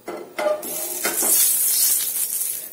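Hot oil sizzles in a pan for tempering, a steady crackling hiss after a couple of clinks of a utensil, close and fairly loud.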